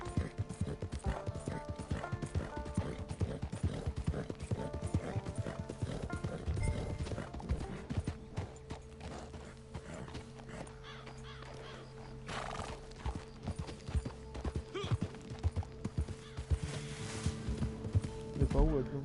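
Horse hooves clip-clop steadily through the Red Dead video game as a horse is ridden, joined by occasional whinnies, under game music and background effects, with a voice heard intermittently.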